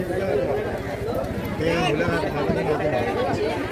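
Dense crowd chatter fills the crowded Sassoon Dock fish market in Mumbai, many overlapping voices forming a close, continuous babble.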